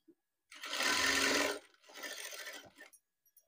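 A sewing machine stitches a blouse in two runs, a longer whirring burst and then a shorter, softer one, close up with near silence around them.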